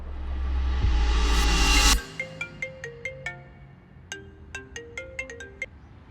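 An incoming video call rings on a phone in a Hindi-dubbed South Indian action film: a loud, close melodic ringtone of bright repeating notes in short phrases, following a burst of dramatic film sound.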